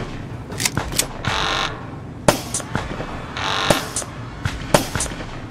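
Gunshots in the video game Papers Please: several sharp cracks spaced irregularly, mixed with short mechanical bursts and clicks, fairly close and loud with no talking.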